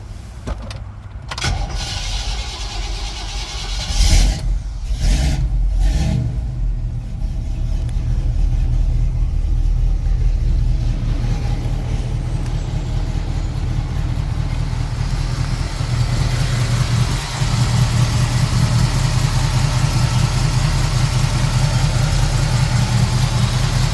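A 1968 Chevrolet Camaro SS tribute with a 350 cubic-inch V8 and automatic transmission cranks briefly with a few sharp bursts, then catches and settles into a loud, steady, rumbling idle that continues close by with no talk.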